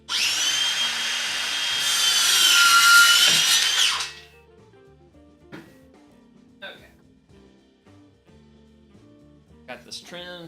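A power drill whines loudly for about four seconds while driving a screw into cedar boards for a raised garden bed, followed by quieter knocks and handling noises.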